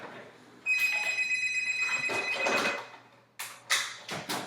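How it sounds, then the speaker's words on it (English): A telephone rings at work, its bright repeating electronic tone sounding steadily at close range and then breaking into short separate bursts before it stops. "let me turn this phone off"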